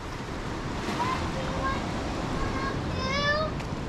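Ocean waves wash steadily onto a Bali beach, a continuous broadband surf roar with wind buffeting the microphone, while a voice and faint chirpy calls drift over the top.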